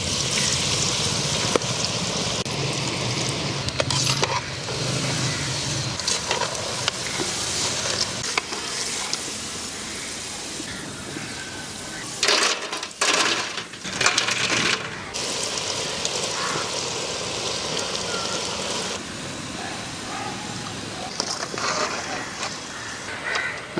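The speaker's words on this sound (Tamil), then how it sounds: "குர்குரே பொரிச்சு எடுக்க போகிறேங்க." Papaya kurkure fries in hot oil with a steady, loud bubbling hiss and sizzle that runs throughout, rising briefly in the middle, with no talking over it.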